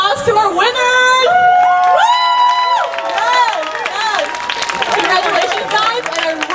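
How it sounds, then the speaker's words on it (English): Crowd at a Peruvian cultural festival cheering and whooping loudly for dance contest winners, with voices shouting over strong tonal music throughout. "give a big round of applause to our winners!"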